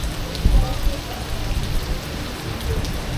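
Steady rain falls on a beach resort on Mactan Island during rough-surf weather, a dense, even hiss with low rumbling underneath that holds at moderate loudness throughout, with no voices over it.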